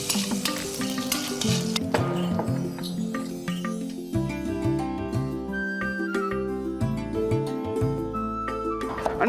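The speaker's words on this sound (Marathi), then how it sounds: "ह्याच्याबरोबर आता लसूण आणि थोडंसं त्याच्यावरती मीठ, हे थोडंसं आपल्याला परतून घ्यायचंय तेलात." Garlic and salt sauté in hot oil, a steady sizzle with stirring and scraping in the pan, close and continuous.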